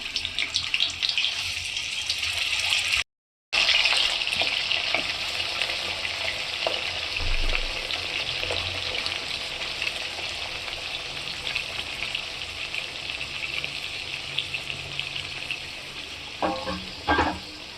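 Pieces of fish fry in hot oil in a home kitchen, giving a steady, close, bright sizzle with occasional pops and crackles throughout, briefly cut to silence once.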